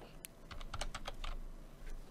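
Quick, close bursts of typing on a computer keyboard during an Unreal Engine 4 dialogue-system setup, with a faint background hum and no talk.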